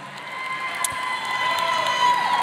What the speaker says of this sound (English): Please continue your applause for Eddie one more time.